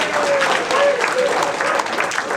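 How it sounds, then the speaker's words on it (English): Round of applause from a seated crowd at a family reunion dinner, a steady dense patter of clapping with faint voices mixed underneath. "We should give them a special round of applause"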